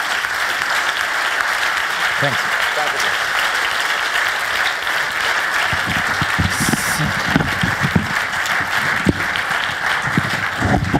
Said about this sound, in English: and a big applause, please.